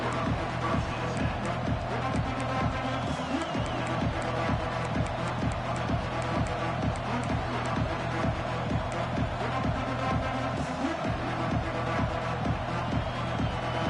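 Stadium crowd noise from an NCAA college football video game, a steady dense roar of many voices with a rhythmic pulsing chant or stomp running throughout, loud and continuous without clear commentary.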